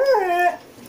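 A golden retriever lets out a single close, high-pitched whimper that rises and wavers for about half a second before trailing off into quiet.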